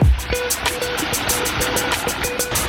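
Water pours steadily over a pondless waterfall in a renovated garden pond setting, a continuous close splashing rush with a faint rhythmic pulsing throughout.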